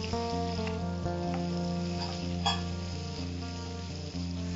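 Chopped onions frying in a pan for squid masala: a steady, close sizzle that holds level throughout, with a faint hum underneath and an occasional soft clink.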